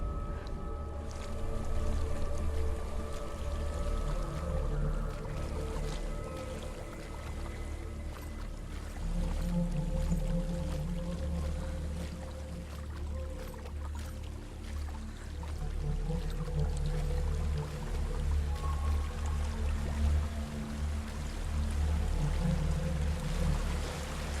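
A waterfall in the video game Hellblade: Senua's Sacrifice rushes in a steady, continuous roar with heavy low rumble, layered with a faint droning ambient tone throughout.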